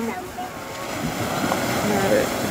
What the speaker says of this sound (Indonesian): dikena ombak dan ombaknya lagi kencang, ombaknya lagi besar